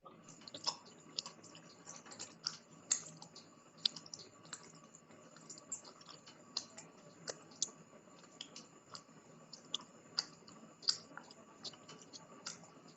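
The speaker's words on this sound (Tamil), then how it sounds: "இதுல வர அந்த ஆங்கில எழுத்தை அதே மாதிரி டைப் பண்ணுவோம்." Keys on a computer keyboard are tapped in quick irregular bursts, faint and close, with short pauses between strokes and no voices.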